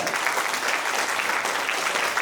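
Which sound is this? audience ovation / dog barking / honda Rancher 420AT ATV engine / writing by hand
audience ovation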